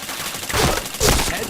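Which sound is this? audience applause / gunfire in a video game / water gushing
gunfire in a video game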